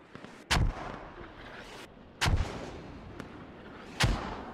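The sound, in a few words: mortar fire in a video game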